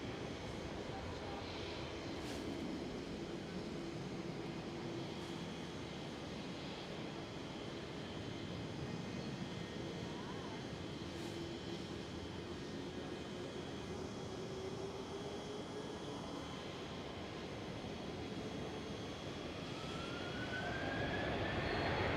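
An SAS Airbus A319 in former Star Alliance livery taxis at Amsterdam Schiphol, a low, faint, continuous engine drone and whine with faint background noise, rising slightly toward the end.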